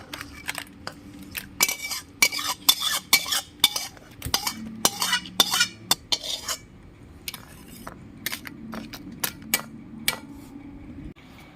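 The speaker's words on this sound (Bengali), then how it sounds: "আমি তার মধ্যেই কাঁকড়ার ঝালটা ঢেলে নিচ্ছি" Crab curry is poured and scraped from a metal vessel over fried crab in a pan, giving a string of sharp metallic clinks and scrapes with quieter stirring noises in between, all close by.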